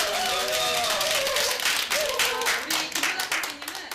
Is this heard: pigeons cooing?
no